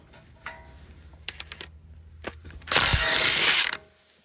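Ratchet wrench working a 24 mm nut on a Toyota Tundra's lower control arm, heard as scattered close clicks and a few short sharp bursts, then one loud sustained grinding rush near the end.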